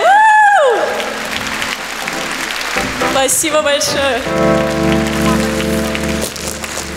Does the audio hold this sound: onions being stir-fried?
no